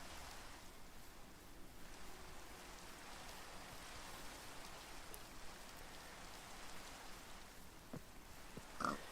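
Steady rain hisses evenly throughout, a dense, constant patter with no pauses and a brief sharper knock near the end.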